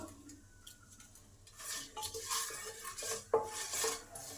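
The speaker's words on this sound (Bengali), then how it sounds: "এই মশলাগুলোকে ভালো করে ভেজে নিতে হবে" Metal utensil scrapes and clinks against a pan over a soft, steady sizzle of five-spice seeds, dried chillies and bay leaves frying in hot oil, with one sharper knock near the end.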